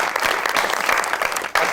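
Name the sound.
studio audience applause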